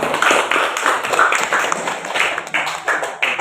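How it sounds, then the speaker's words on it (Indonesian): Students in a classroom clap for a presenting group, a brisk, close round of rhythmic hand claps that carries on steadily for a few seconds. "Tepuk tangan untuk kelompok 4."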